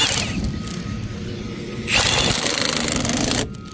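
A wrench clacks in a rapid mechanical ratcheting burst while tightening lug nuts on a Ford F250 truck wheel during a flat tire change, loud and close, with a steady rattling texture.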